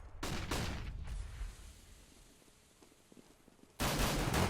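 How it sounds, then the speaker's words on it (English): P2000 pistol shots in a Counter-Strike match: a few sharp, loud shots at the start, a quieter stretch of distant game noise, then a sudden loud burst of fire at the end. "Glaive from backside with that P2000 does get a couple of good tags off"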